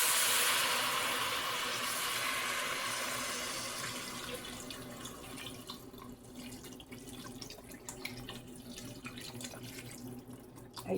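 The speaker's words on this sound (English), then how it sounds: "is you cover it with water." Filtered tap water pours steadily into a cooking pot over zucchini for an Italian dish, a loud rushing stream at first that softens and thins toward a quieter trickle, with no talking.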